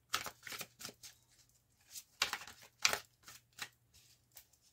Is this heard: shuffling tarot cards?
yes